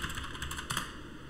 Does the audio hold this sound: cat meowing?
no